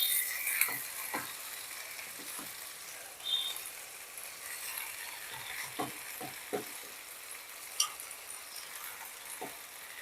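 Spinach fries in a pan with a steady, broad sizzle throughout. Occasional soft knocks and stirring scrapes come from a utensil, and no voices are heard.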